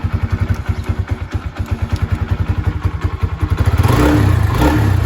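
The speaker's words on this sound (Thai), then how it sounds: "ฟังเสียงกันเลยสตาร์ทง่ายนะครับ" A cold Honda Sonic motorcycle engine starts and idles with a rapid, steady thumping putter, then revs up into a smoother, louder drone near the end.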